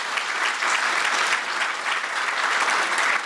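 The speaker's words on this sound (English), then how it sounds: "So can I ask everyone just to give a round of applause for the team." A large audience at a Samsung graduation ceremony claps for the team in a steady, dense round of applause that holds evenly throughout.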